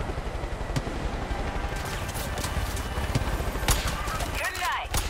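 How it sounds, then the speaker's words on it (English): Gunfire in the Far Cry 5 video game: sharp shots crack out irregularly over a busy, dense game soundscape, with a louder burst near the middle and near the end. "Who's shooting at me?"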